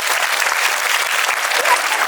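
A crowd at a school cultural program with a puppet show breaks into applause, a thick continuous wash of clapping, loud and near, with no pauses.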